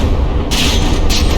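Battleship turret guns firing in From the Depths, two booming blasts with a bright crack about half a second apart over a heavy rumbling battle din, no talk.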